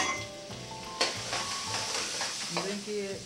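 Bell pepper and onion sizzling in a hot pan while being stirred, a steady close frying hiss with scraping utensil strokes and a sharp clink near the middle.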